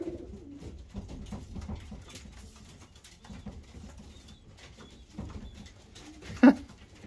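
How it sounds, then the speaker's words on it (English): A caged pigeon in a loft coos low and soft, intermittent throaty calls near the microphone, with a brief sharper flutter or knock toward the end. "Another pigeon in his cage."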